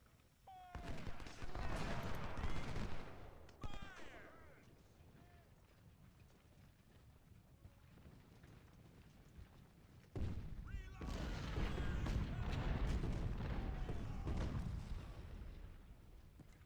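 Musket volleys and cannon blasts from the Ultimate General: Civil War video game crackle in dense bursts, loud at the start, quieter in the middle and swelling again near the end, with no talk over them.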